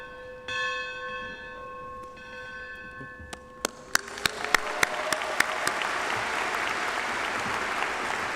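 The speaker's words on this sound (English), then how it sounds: "The bell ringing at commencement symbolizes the student completing and earning the bachelor's degree." A bell rings at a university graduation ceremony, a steady series of clear, evenly spaced strikes that ring out and linger, while applause from the crowd swells beneath and carries on after.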